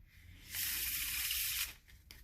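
A deck of playing cards riffles through a faro shuffle in one continuous, crisp, hissing burst lasting about a second, close and fairly loud, with a faint tap afterward.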